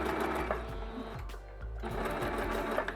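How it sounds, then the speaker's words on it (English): Sewing machine stitching an invisible zipper, a close, steady rapid mechanical whir with a brief slowdown midway before resuming. "Keep sewing until we get to the very end."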